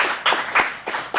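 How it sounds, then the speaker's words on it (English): Brief burst of hand clapping from a small acting class of teens, a few quick overlapping claps close by with no talk. "Let's all give him a round of applause for showing some time."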